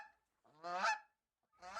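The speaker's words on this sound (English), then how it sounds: "Then a goose lumbered by." Goose honks used as a storybook sound effect, two clear, nasal calls separated by a short silence, close and alone, with a third call starting at the end.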